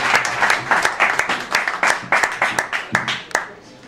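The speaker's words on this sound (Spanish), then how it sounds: "Un aplauso." Audience applause at a poetry reading, a smaller group clapping with distinct individual hand strikes, loud at first and thinning out toward the end.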